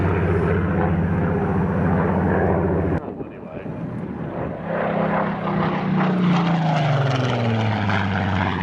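A WWII fighter plane performs a four-point hesitation roll at an airshow, its loud propeller engine droning, briefly dropping away, then returning with a shifting, sweeping pitch as the aircraft maneuvers overhead.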